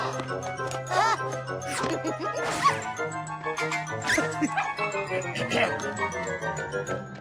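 Several dogs bark and yip in quick, excited bursts, close by, with high-pitched yelps layered over a low steady hum.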